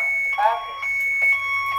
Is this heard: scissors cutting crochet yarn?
no